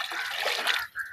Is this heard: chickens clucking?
no